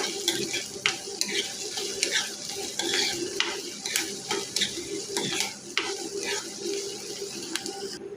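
Ingredients fry and are stirred on high flame in a pan, with curry leaves added, giving a steady close sizzle and repeated scraping and clinking of a spoon against the pan throughout.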